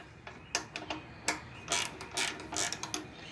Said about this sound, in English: You want to hold your hand on that side and then ratchet it.